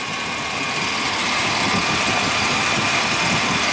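A Chevy Silverado engine with a crankshaft position sensor fault caused by a bad connection idles smoothly and steadily at close range, a constant even hum with no stumble and no voices.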